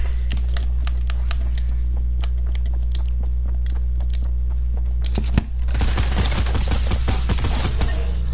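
An unsilenced video game gun fires in rapid bursts of sharp cracks over a steady loud background hum, the shots thickening into a dense, continuous barrage near the end.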